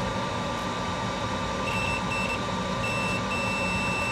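A multimeter's continuity checks on a Vizio M75-C1 4K TV mainboard give several short, thin electronic beeps of uneven length, one after another, over a constant background hum.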